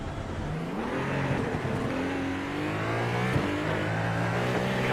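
Hypercars in a racing video game at Road America race past with a steady, loud engine drone and shifting pitch, some of it from a car close behind, with no voices.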